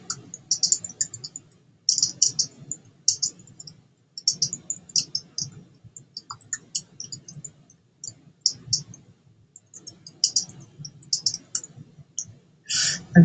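Quiet, light clicks of a computer keyboard or mouse tap out in short irregular bursts with pauses between them, close and soft.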